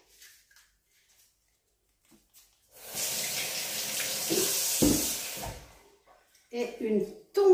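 Water is poured into a pan of vanilla sugar for a vine-peach compote, a steady splashing pour of a couple of seconds in an otherwise quiet kitchen, followed by brief clattering.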